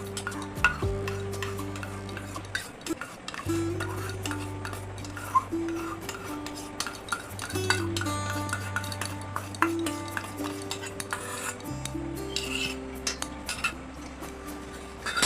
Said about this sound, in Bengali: এবার আমি এটা মিশিয়ে নেব ভালোভাবে